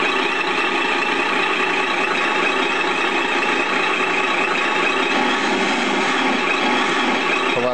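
A King Hauler truck engine runs loudly and steadily throughout, with a dense mechanical rumble and hiss; no clear rise in revs stands out.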